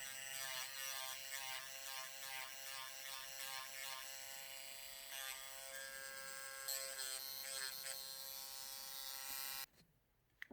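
Electric nail drill buffing a fingernail in a steady high-pitched whine that wavers slightly in speed as the bit presses the nail, running continuously, then cutting off abruptly near the end.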